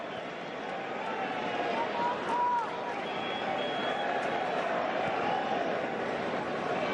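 A packed football stadium crowd at a Barça versus Juventus match roars in a steady, dense wash of noise, with commentary heard over the top throughout.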